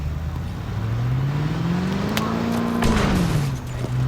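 Car driving in a French-language shooter video game, its engine droning steadily and rising then falling in pitch as it rolls along, with brief clicks and game effects on top and no talk.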